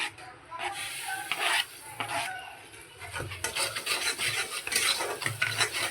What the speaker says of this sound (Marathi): आणि त्याला व्यवस्थित हलवून घ्यायचं.